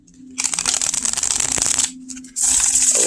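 Native American Tarot cards shuffled close up in two bursts, a long run of dense riffling flutter, a brief pause, then a second burst of crisp card rustling.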